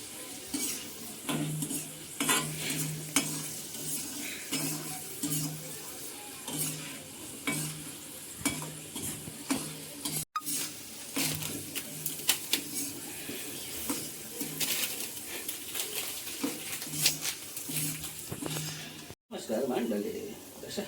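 Garlic frying and sizzling in a pan for a dhaba-style chana garlic fry, with steady stirring scrapes and utensil clinks against the pan throughout, and a person speaking over the cooking.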